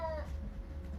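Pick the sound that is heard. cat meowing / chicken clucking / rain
cat meowing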